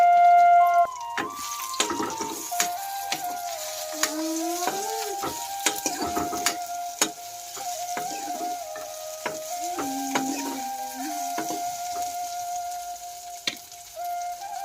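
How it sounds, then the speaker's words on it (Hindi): Dal fried with tomato and chili in a pan, stirred constantly with metallic scrapes and clinks over a steady sizzle, close and fairly loud, with no talking. "आज बहुत दिन बाद आज करत हूँ दाल फ्राई।"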